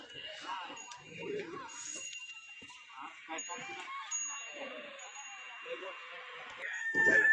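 A rooster crows amid other fowl noises, with people talking nearby throughout and a louder burst near the end.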